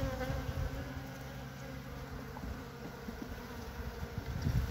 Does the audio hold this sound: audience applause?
no